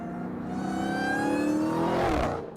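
A Hellcat car engine accelerates hard around a parking lot, its rising rev climbing smoothly and building into a loud, sustained roar before easing off at the end. No one speaks over it.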